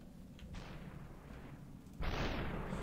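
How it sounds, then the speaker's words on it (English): Gunshots in the SuperHOT video game: two heavy, booming shots with sharp onsets about a second and a half apart, the second louder, over a low rumbling background. "I can hear the bullets by my head"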